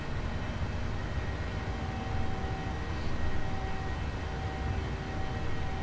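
Jet engine roar from a PMDG 737 airliner climbing out after takeoff from Winnipeg in Microsoft Flight Simulator, a steady, broad, continuous rumble with a faint tonal whine, no talk over it.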